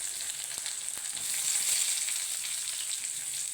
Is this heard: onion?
yes